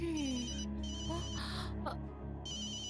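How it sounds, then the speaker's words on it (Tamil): A phone rings with an incoming call in a Tamil TV drama home scene, its electronic ringtone melody repeating clearly and fairly close, with faint sound behind it. "ரோஷினி தான் ஃபோன் பண்றா."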